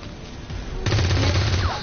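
Rapid automatic gunfire bursts out in the XCOM 2 video game as a soldier shoots at an alien, a dense loud fusillade starting partway through after a quieter stretch.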